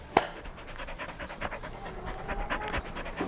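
A dog pants rapidly and steadily close by, quick breathy huffs repeating with a brief sharp noise at the start.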